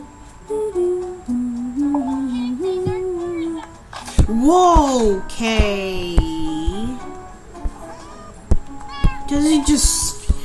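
Cat meows from The Sims FreePlay game, several high pitched calls rising and falling over the second half, with a voice speaking before them and game sounds around them.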